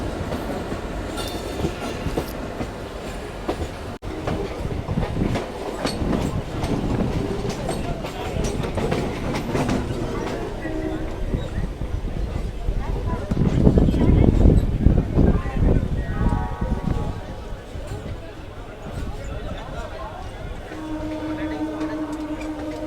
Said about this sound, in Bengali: আমাদের ট্রেনটা এখন হাওড়া স্টেশনে ঢুকছে